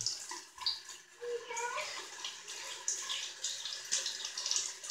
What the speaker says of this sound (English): I prefer to use cold water for this.